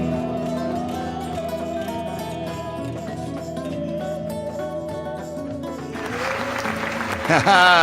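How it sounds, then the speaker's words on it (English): Applause sound effect triggered automatically for a host's introduction, a clapping burst rising near the end over a steady bed of music and voice. "I didn't have to trigger the clapping."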